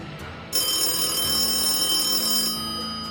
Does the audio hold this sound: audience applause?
no